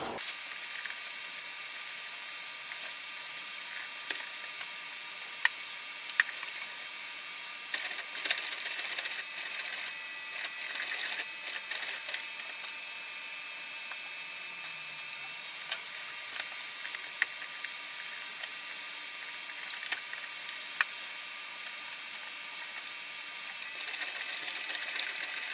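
A sewing machine runs steadily as it top stitches across the front of a bag, with a continuous mechanical whir and occasional sharp ticks, fairly quiet and close, without voices.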